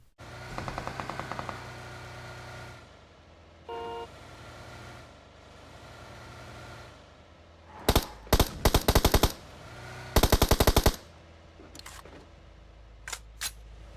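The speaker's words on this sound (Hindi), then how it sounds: "हमारे भाई ने गोलियां चला दी" Gunfire in the PUBG battle royale game: rapid automatic bursts and scattered single shots ring out over a steady vehicle engine hum, with several loud clusters of rounds and quieter pops near the end.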